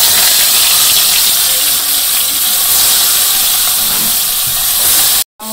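Fish fry in hot oil in a wok in a village kitchen, giving a loud, continuous, roaring hiss that holds steady before cutting off abruptly near the end.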